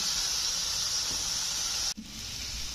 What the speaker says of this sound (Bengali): বাঁধাকপি, গাজর আর হচ্ছে পেঁয়াজটা ভাজছি।